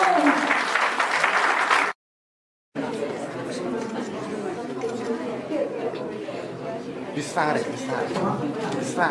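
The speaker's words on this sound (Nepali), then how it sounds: "हामी सबैले जोरदार तालीले उहाँलाई सम्मान गरौँ" A crowd at a Nepali community program in Los Angeles applauds, with dense clapping and chatter, broken by a short gap of silence before the clapping resumes.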